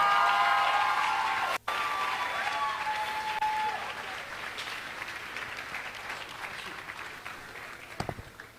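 Applause from an event audience, many hands clapping steadily and loudly, then thinning and tapering off toward the end as murmurs of the crowd continue.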